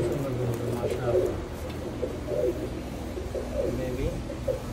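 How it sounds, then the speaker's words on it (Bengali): Oman Teddy pigeons coo in soft, repeated low phrases, close by, while a voice murmurs faintly in the background. "খুবই সুন্দর কবুতর"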